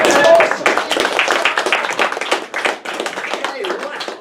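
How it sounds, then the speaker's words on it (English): An audience at a magic contest claps for a young volunteer, a loud, dense burst of applause close by that fades slightly toward the end, with voices talking over it. "Give Zoe a big round of applause."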